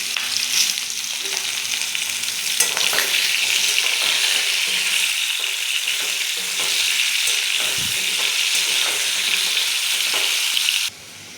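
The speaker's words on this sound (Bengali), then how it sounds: "অল্প নুন দিয়ে আমি আলুগুলো ভেজে নেব" Potato pieces fry in hot oil with a little salt, giving a continuous close sizzle with faint stirring clinks for about eleven seconds before it cuts off abruptly.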